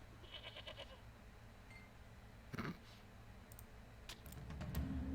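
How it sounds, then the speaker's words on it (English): Goat bleats from the Titan Quest video game as the goat is milked for mead, a short series of faint nasal calls at the start, followed by soft clicks and a low rumble building toward the end. "So let's milk a goat for mead."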